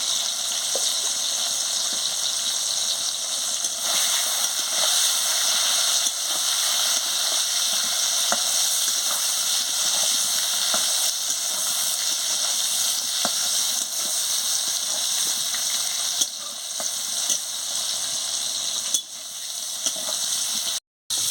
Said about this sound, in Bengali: পটলের সঙ্গে পরিমাণ মতন হলুদটা দিয়ে পটলটাকে ভালো করে ভেজে নেব